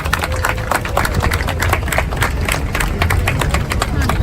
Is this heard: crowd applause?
yes